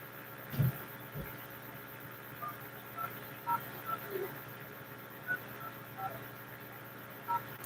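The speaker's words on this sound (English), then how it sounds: "the number I'm dialing is 1-202-325-8000" Touch-tone keypad beeps as a phone number with a U.S. country code is dialed, a string of short, evenly spaced tones over a steady background hum, with a couple of louder handling thumps near the start.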